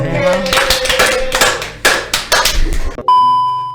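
A few crew members clap their hands in a podcast studio, loud close claps in uneven bursts for a couple of seconds, then an electronic tone rings out alone.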